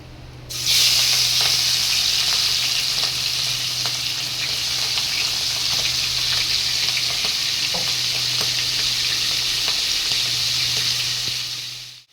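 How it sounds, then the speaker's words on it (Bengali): Prawns with tails on, coated in salt and turmeric, fry in hot oil with a loud, steady sizzle that continues unbroken, and occasional faint spatters and scrapes are heard over it. "তেল গরম হয়ে গেছে, এবার আমি এটা লাল লাল করে ভেজে নেব।"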